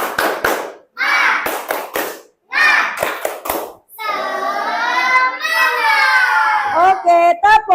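A class of children performs a rhythmic clapping routine led by a teacher during a classroom ice-breaker, with sharp grouped claps in bursts alternating with the teacher's sung and spoken prompts.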